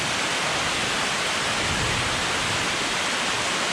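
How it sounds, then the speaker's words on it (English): Heavy rain pours down in the Amazon rainforest as a dense, continuous hiss that stays loud and unbroken throughout. "Walking back in a freaking rainstorm, dude."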